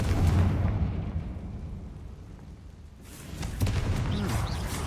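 Confringo spell explosion blasting a barricade in the Hogwarts Legacy game, a loud booming burst up front that dies into a low rumble, then a second crackling surge of debris and impact noise.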